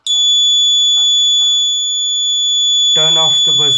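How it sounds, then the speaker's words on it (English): A high, steady electronic tone from a buzzer switched on by an offline voice recognition sensor rings continuously throughout, with brief spoken words underneath and a voice talking more clearly near the end. "Turn on the buzzer."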